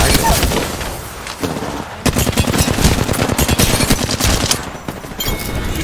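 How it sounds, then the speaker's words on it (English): Dense automatic gunfire from Apex Legends, with rapid loud bursts and shots from several weapons overlapping, close and continuous, while a player talks over the shooting. "Why is he shooting me?"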